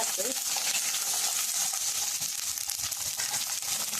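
Cauliflower frying in hot oil in a kadhai for a mixed vegetable dish, a steady, dense sizzle that holds evenly throughout with light crackling on top.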